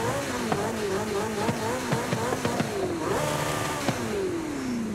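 A modified Porsche 911 Carrera S engine revving hard, its rising and falling wail punctuated by sharp pops and crackles as the throttle blips, ending in a sustained high rev that slowly winds down.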